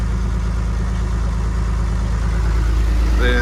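A Ford 3000 tractor engine idles steadily nearby, a constant low rumble with no pauses, with a brief faint chirp near the end.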